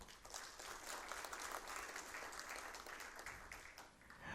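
Sustained, even applause from a seated audience at an engineering ceremony in São Paulo, many hands clapping at a moderate level without pause.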